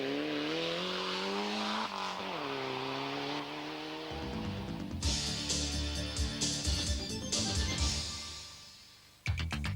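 Group A Toyota rally car on a loose-surface stage at the 1991 RAC Rally of Great Britain, engine revving and dropping as it changes gear, then a rougher burst of noise with gravel spray before a sharp cut.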